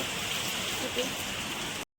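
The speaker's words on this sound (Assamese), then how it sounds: "ইমানেই বৰষুণ মানে কি কওঁ, কেনেকুৱা বৰষুণ" Dense, steady rain patters on a surface, a continuous wash of drops, with a faint voice briefly under it before it cuts off.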